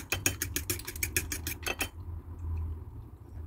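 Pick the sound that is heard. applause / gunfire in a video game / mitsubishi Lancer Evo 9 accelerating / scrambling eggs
scrambling eggs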